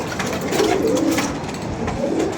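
Pigeons coo steadily and close by in a pigeon-keeping setting, their low, rolling calls overlapping in a continuous murmur for the whole stretch.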